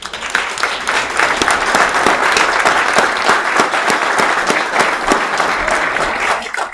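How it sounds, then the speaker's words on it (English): Audience at a candidates' debate applauds steadily and loudly for several seconds, dense clapping with a few sharper claps standing out near the front. "Please give them all a big round of applause."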